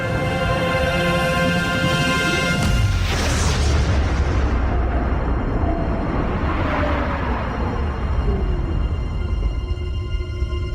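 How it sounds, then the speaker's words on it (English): Antimatter explosion effect, a loud booming blast that erupts about three seconds in and rolls on into a long, rumbling, decaying roar with a fading high hiss. "Antimatter explosion"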